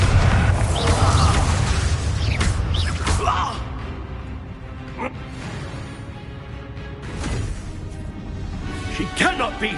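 Confringo and Bombarda explosion spells blast in Hogwarts Legacy, loud booming bursts and crackling impacts with voices speaking over the din.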